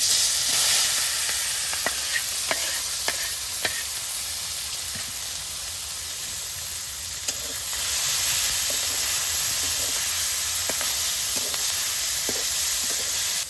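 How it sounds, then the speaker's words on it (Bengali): A steady, loud sizzle of fresh river fish frying in hot oil in a kadai fills the scene, with occasional light clicks and pops over the hiss. "মাছটা হালকা বাজা হয়ে গেছে"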